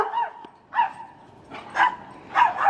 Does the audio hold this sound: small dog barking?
yes